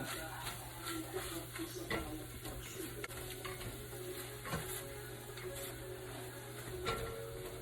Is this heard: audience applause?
no